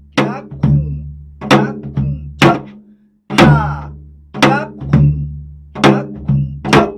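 Korean janggu hourglass drum played in the samjangaebi rhythm, a series of deep resonant strokes in a steady repeating pattern with a short pause midway, loud and close with no talk over it.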